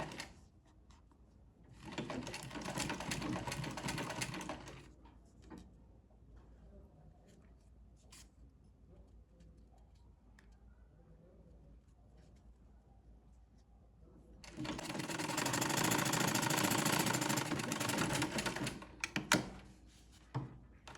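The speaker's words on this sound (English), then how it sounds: "now I will just go on and stitch on this crease" A sewing machine stitches an invisible zipper in two loud, steady runs of a few seconds each, separated by quieter handling noises and soft fabric rustling.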